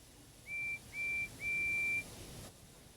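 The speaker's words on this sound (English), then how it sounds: "the guard's whistle blew, and the two engines set off" A train guard's whistle gives three shrill, steady blasts, two short and one longer, alone over a quiet background with no talking.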